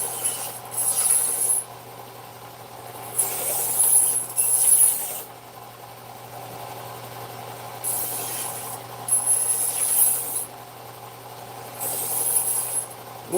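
A knife blade is sharpened on an abrasive, starting at the tip and working back, in bursts of bright hissing grinding with pauses between, over a steady low machine hum.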